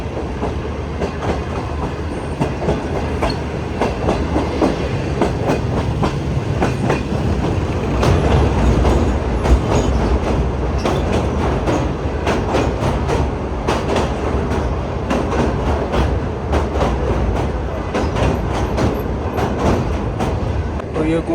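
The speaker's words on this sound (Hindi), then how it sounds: "तो ये कोटरी ब्रिज से हमारी ट्रेन गुजर रही है" A passenger train crosses the Kotri Bridge over the Indus River, wheels beating a loud, rapid clickety-clack with steady rumble throughout, heard from on board.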